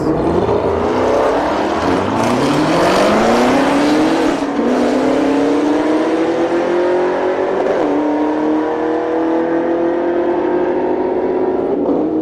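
A Dodge Hellcat Redeye makes a loud drag strip pass at Bradenton Motorsports Park, running 11.35 at 122 mph. The supercharged engine screams in rising sweeps through each gear change, then holds a sustained high roar.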